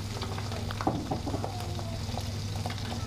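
Sea bass fillet, skin side down, fries in a very hot pan, giving a steady close sizzle with crackling pops and a low hum underneath, continuous and even throughout.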